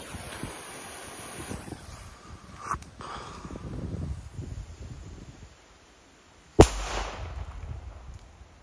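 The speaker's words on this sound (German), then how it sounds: "jetzt gucken wir uns mal die C-Böller Tiger Bombs mal an." A Funke C-Böller Tiger Bomb firecracker goes off outdoors on damp ground with one sharp, loud bang after a quiet lull, preceded by wind and rustling.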